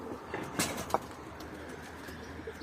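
Pigeons coo softly in a loft, with a few short calls and light rustling against a quiet background, and no talking.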